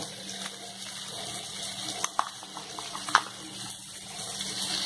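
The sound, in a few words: water poured into a jar of poppy seed paste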